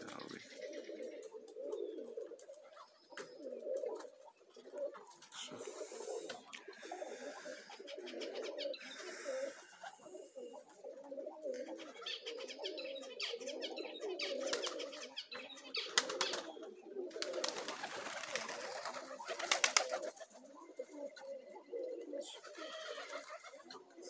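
Young Zamojski pigeons at a pigeon loft, soft low cooing running throughout with bursts of wing flapping and faint chirps, fairly quiet and close.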